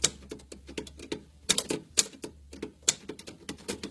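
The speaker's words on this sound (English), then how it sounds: "It's got the Remington Standard typewriter." An antique Remington Standard typewriter in a barn, its keys struck in a quick, uneven run of sharp, loud clacks heard close up, with no talking.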